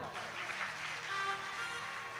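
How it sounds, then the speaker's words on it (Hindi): Audience applause at a devotional discourse, a steady dense wash of many hands clapping at once, fairly distant and even throughout with no speech over it. "और एक बार हमारे जो उत्तर भारत के उनके लिए भी ताली बजाओ।"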